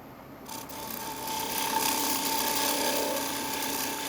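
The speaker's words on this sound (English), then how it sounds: "Working on trying to get a clean cut here. Nice sharp gouge." A sharp gouge cuts a wooden dinner plate charger spinning on a lathe, giving a steady, continuous rasping, shaving hiss that is close and fairly loud, with a constant motor whine beneath and no talking.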